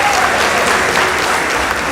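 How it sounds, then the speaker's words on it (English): Audience at a high school debate between two schools breaks into dense, sustained applause, loud and close, with steady clapping filling the whole moment. "Let us also give a round of applause to Machakos School"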